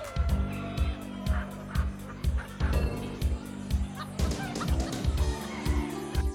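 Broiler chickens raised in a computer-controlled poultry house in Thailand, a dense flock clucking and calling continuously, with a steady rhythmic mechanical thump running beneath the birds throughout.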